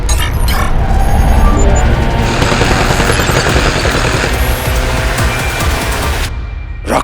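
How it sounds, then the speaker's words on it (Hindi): Fireworks burst loudly and densely in an animated cartoon, a near-continuous barrage of crackling explosions that cuts off sharply near the end. "तुम्हारे स्वागत के लिए हमारी आतिशबाजी तैयार है।"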